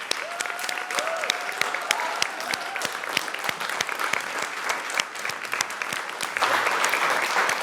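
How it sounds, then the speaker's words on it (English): An audience applauds at a conference closing event, sustained brisk clapping from a room full of people that swells slightly louder toward the end. "Please join me in a round of applause for Claudia."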